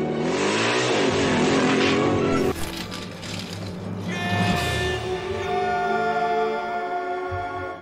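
A motorbike engine from the animated film Chicken Run revs hard and loud, dropping and then climbing again in rising whining tones over about eight seconds, mixed with film sound and no talking.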